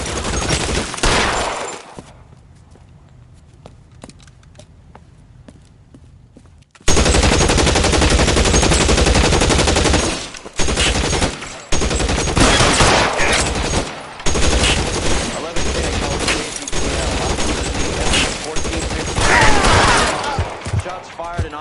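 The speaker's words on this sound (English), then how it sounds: "Shots fired and officers need help" Gunfire in the video game L.A. Noire: after a brief shot and a quiet stretch, long loud bursts of rapid gunfire and fusillades continue almost without pause, mixed with occasional game voices.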